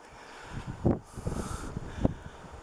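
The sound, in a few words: wind blowing on microphone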